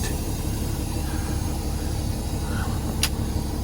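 A car being driven on a road, with a steady engine and road rumble running throughout at a constant level, a brief sharp sound near the end.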